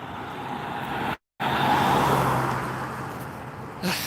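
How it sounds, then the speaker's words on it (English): A car drives past on a road in chilly, calm weather in Cheyenne, Wyoming, its steady tyre and engine noise rising and fading close by, cut by a brief dropout, with no voices. "Let's wait for this car to get crossed."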